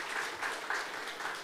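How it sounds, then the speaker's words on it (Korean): An audience claps steadily through a short, even burst of applause at a party candidate rally for a mayoral nomination in Jeongeup, South Korea, heard fairly distant with no talk over it. "다시 한번 큰 박수 부탁을 드리겠습니다."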